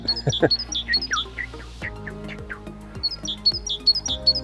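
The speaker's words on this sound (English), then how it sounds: "There's been some great tits calling as well, which is really nice." Great tits calling along the River Wye, with repeated bright chirps and two-note phrases in rhythmic bursts over a low background hum, moderately close.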